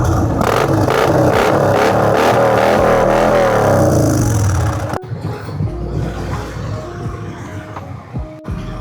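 A 2000 cc car engine revs loudly on a Sunday ride through Jaipur. A roaring, rising rev fills the first half, then cuts off abruptly and leaves a quieter idle with clunks.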